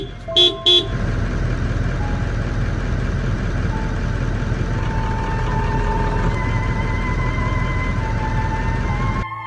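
A car engine idles and hums close by as the vehicle is driven toward a lion to scare it from a camp, opened by two short horn toots, then a steady engine drone alone.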